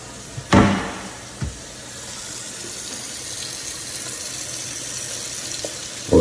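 Sink faucet running in a Park Slope condo during a final walkthrough, a steady low wash of water with a couple of sharp knocks near the start and another at the end.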